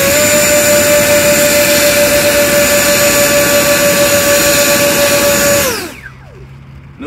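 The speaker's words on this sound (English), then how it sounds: "I'm going to do a throttle test just to make sure that everything's going okay." A 70mm electric ducted fan on an Su-47 Berkut RC jet model whines at steady high throttle, loud and close, then spools down sharply near the end, leaving quiet background.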